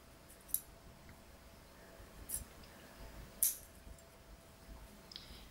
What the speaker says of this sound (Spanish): Cortamos los trozos sobrantes con unas tijeras.